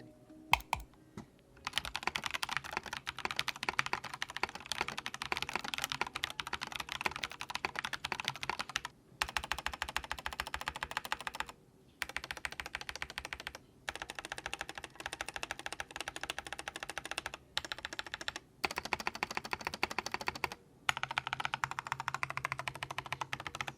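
Steady, continuous typing on a Feker F980T mechanical keyboard with deep, rounded SA keycaps, a fast stream of clacks broken by a few short pauses, close and alone.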